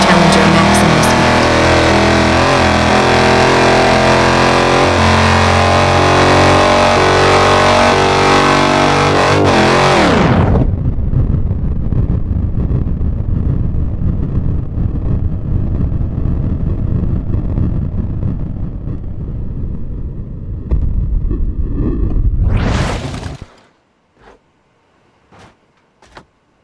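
A Dodge Challenger in BeamNG Drive at 150 km/h: loud, steady engine roar for about ten seconds, then an abrupt collapse into a rumbling, scraping aftermath, a brief rising whoosh, and a few faint clicks.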